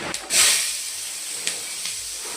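Fenugreek seeds hit hot oil for tempering a prawn curry, giving a short loud sizzling hiss that fades into a soft crackle with a few faint pops.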